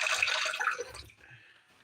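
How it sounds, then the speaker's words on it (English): Coffee pours into a cup in a brief hissing, splashing stream that tapers off into a few small drips, heard close with no talk. "I'm just pouring coffee if anybody would like any"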